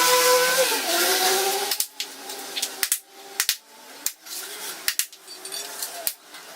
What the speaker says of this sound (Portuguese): você tem que bater com o martelo relativamente forte